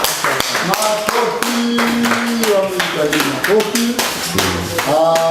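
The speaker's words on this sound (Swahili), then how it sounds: "Makofi." A primary school classroom breaks into rhythmic group clapping, sharp claps repeating in quick bursts while children's voices chant loudly over them.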